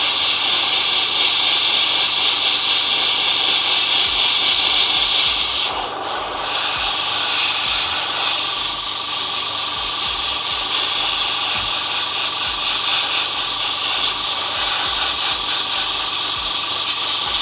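Airbrush spraying base coat paint onto a miniature gives a steady, loud, close hiss of air and paint that runs almost the whole time, with a brief dip near the middle where the trigger eases off.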